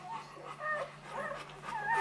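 A newborn Bully Kutta puppy gives thin, high whimpers and squeaky yips in short, repeated bursts, close and fairly faint over a low steady hum.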